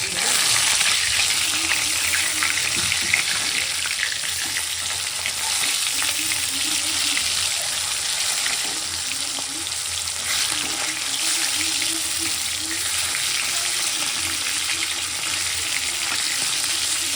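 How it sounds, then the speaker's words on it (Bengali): Fish fries in oil in a home kitchen pan, giving a loud, continuous close-up sizzle with faint bubbling and occasional soft scraping, and no one talking. "আর এদিকে মাছ ভাজা বসিয়ে দিয়েছি।"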